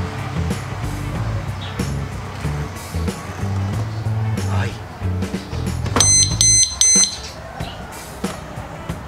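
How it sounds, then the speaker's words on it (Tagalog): A motorcycle alarm disc lock on a Sniper 150 sounds after being moved, giving a short burst of shrill, repeated electronic tones near the end. Before that, someone talks over background noise. "Naikabit na natin yung alarm. Ito. Try naman natin ngayon galawin."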